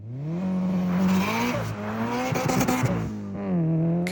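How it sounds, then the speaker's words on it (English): A boxer engine rumbles loudly and close up with uneven exhaust firing, its pitch rising and falling as it revs, with a brief rougher, gritty stretch in the middle. "The sound of a boxer engine is unique"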